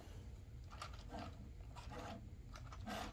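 Plastic gears in a Lego Technic Lamborghini Sián FKP 37 model click and ratchet faintly as the linked wheels turn, a quiet, continuous mechanical whirring with small taps.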